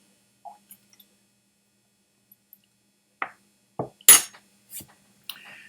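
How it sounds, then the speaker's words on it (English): Water dripped from a spoon into a glass of 58.4% ABV Ardnamurchan Highland single malt Scotch whisky, heard as a few close, soft wet drips and small splashes in an otherwise quiet room. "I'll put a whole spoon of water in to begin with."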